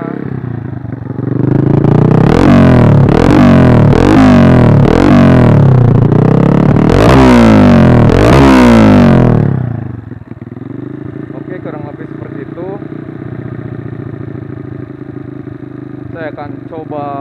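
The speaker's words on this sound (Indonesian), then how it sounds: "Kalau yang pengen dengar suara knalpotnya" A Honda Karisma 130cc trail-style motorcycle is revved several times, its exhaust rising and falling in loud, close bursts, then it drops back to a steady idle.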